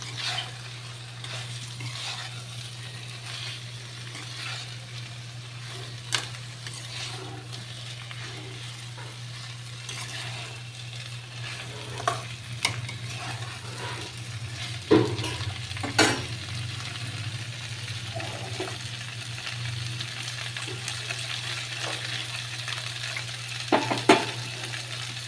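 Cauliflower florets and potato pieces frying in hot oil in a kadai for a vegetarian dish: a steady, close sizzle runs throughout, broken by occasional sharp clicks and scrapes of stirring, with no talking.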